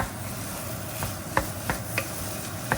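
A spatula scrapes and taps in a pan while rice and egg are stirred together for bacon fried rice, a few sharp knocks standing out over a steady low sizzle.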